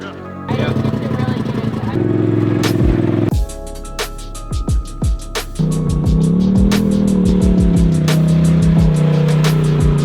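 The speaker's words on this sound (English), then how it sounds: "doing a final shakedown on my Polaris Racer" A Polaris off-road racer in Boulder City, Nevada revs hard and loud during a final shakedown run, its engine climbing and falling through repeated throttle bursts and gear changes close to the listener.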